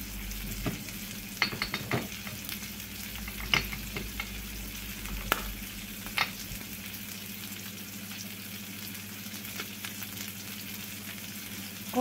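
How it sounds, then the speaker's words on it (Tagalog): Peppercorns frying in a pan for liver adobo, giving a soft steady sizzle with sharp crackles and pops scattered throughout, close by and without any talking. "Pangyayin yung paminta."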